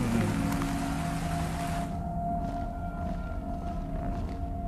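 Steady rain pours down in a simulated scene, a continuous dense hiss that holds at an even level throughout with no voices.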